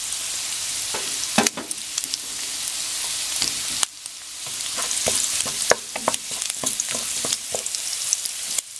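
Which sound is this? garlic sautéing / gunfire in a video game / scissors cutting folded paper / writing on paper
garlic sautéing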